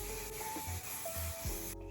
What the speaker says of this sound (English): I'm going to spray in some dry oil and this frizz control and static spray